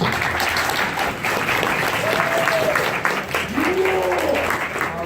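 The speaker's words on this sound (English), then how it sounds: "Everyone give a round of applause." Audience applause at a Nightmare Nights convention panel in Dallas, steady clapping throughout with crowd voices and whoops rising above it.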